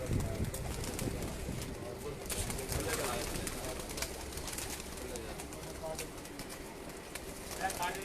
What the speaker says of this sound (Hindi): पहला कबूतर बैठ रहा है जी